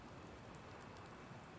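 Rain in the Farming Simulator 19 video game, a faint, steady hiss of falling rain on the ground with no other sounds.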